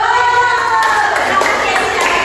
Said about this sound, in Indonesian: Oh, tepuk tangan juga